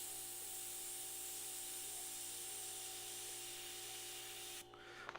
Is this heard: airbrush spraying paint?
yes